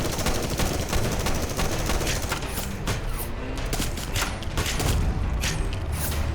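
Battle gunfire in a zombie short film, dense, loud, continuous bursts of automatic fire and overlapping shots with booming impacts, heard without talk.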